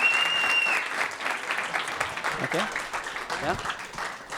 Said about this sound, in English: another round of applause for all the team for the presentation today